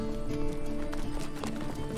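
Farm horses near a park in the Australian Alps, with hooves clip-clopping in a quick, steady rhythm at moderate distance over a constant background hum.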